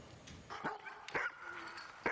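A seven-year-old Alaskan husky sled dog barks and yips in short bursts at a musher's kennel, fairly faint and somewhat distant, with a few sharp yelps spaced across the moment.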